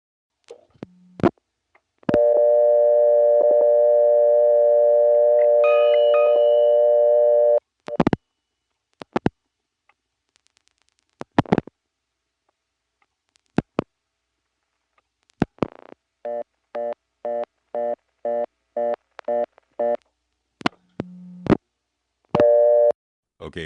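Telephone busy signal on a step-by-step exchange in Rock Hill, South Carolina, 1977: steady tone bursts repeating in an even on-off rhythm, broken by dial clicks and pauses, with no speech over it.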